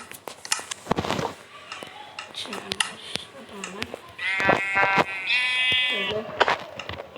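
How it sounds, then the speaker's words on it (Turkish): A Minecraft sheep bleats in wavering, nasal cries after being hit, loud and close, mixed with game clicks and thuds while a player talks over it. "Ben kendi koyunuma vurdum be."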